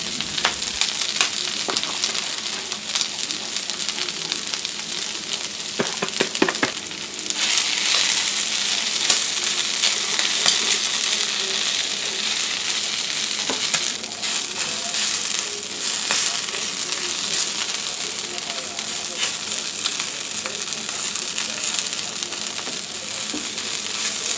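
Squid fries in a pan as grated coconut is stirred in, giving a steady, close hiss of sizzling oil with scattered crackles and scraping stir sounds throughout.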